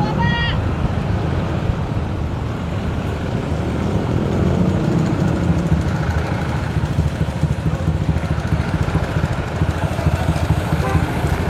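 A motorcycle engine idles and rumbles steadily up close while boarding a ferry on the Denpasar to Banyuwangi route, with wind buffeting and people talking over the engine throughout.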